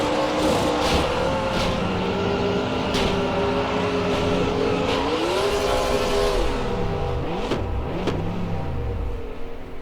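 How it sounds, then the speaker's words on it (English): Onboard the number 86 MG Cup race car at Pocono in 2005, the engine howls loud and close, its pitch sweeping up and down through gear changes and corners without a break. "Let's go on board with Chris Mack here in the 86 car"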